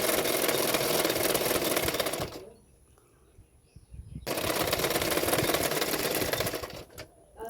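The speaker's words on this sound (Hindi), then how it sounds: "अभी उसको किनारे किनारे पे सिलाई करते जाऊंगी।" Sewing machine running steadily as it stitches piping along the edge of a katori blouse, a loud continuous whirr that stops briefly for about two seconds, then resumes and runs on.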